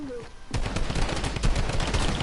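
Gunfire in Fortnite, a quiet pause with a voice, then a sudden dense stream of loud rapid shots that continues steadily to the end.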